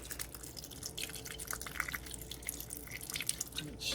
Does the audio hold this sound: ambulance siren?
no